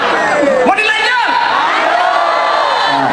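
Crowd at an outdoor campus night festival concert cheering, whooping and shouting loudly and continuously, a dense close wall of voices throughout.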